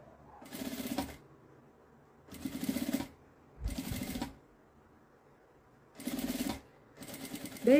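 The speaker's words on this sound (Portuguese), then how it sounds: "eu vou passar uma costurinha na beiradinha de cá e uma costurinha na beiradinha de cá" A home sewing machine runs edge stitching on a small fabric bag meant for holding an iron, in short bursts of rapid mechanical chatter separated by near silence, close and clear.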